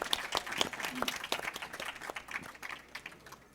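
A hall audience claps to welcome a guest onto the stage at a quiz competition. The applause is fairly soft and somewhat distant, with scattered claps and a brief voice partway through, tapering off at the end.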